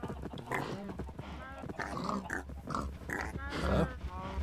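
Pigs in Minecraft grunting and snorting in a run of short bursts, heard close alongside steady game background noise.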